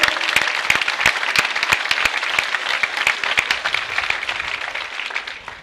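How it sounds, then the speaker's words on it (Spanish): An audience at a town festival proclamation event applauds warmly, dense continuous clapping with distinct individual claps cutting through, loud and sustained before gradually tapering. "Un aplauso."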